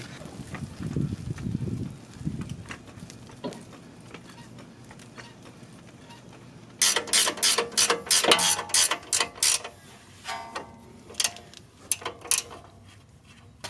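A hand ratchet clicks in quick bursts while bolts are driven back in during a Nissan 370Z coilover install, crisp near ticks after a quieter stretch of faint shuffling and clinks.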